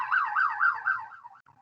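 An ambulance siren passes outside, its rising and falling wail repeating about four times before it fades and breaks up, heard alone at moderate distance.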